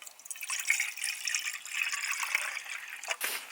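Water pouring into a container for a hexamine-tablet camp stove outdoors in below-freezing weather, a close, thin trickling splash that runs for a few seconds and then breaks into a couple of final drips.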